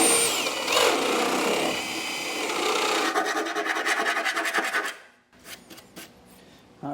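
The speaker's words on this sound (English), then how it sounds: "I've also come back with a file, clean those up, make sure there's no little burrs sticking out" A hand file rasping burrs from freshly drilled holes in a 2015 Ram 1500 truck bed, heard as a loud, continuous scrape that turns into quick rhythmic strokes before a pause and a few closing scrapes.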